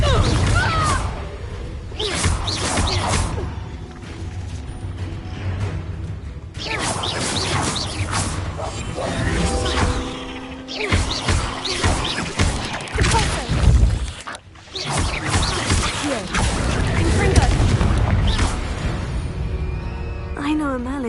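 Spell blasts and combat effects from the Hogwarts Legacy video game: repeated crashes, whooshes and impacts over dense game music, with character voices speaking throughout.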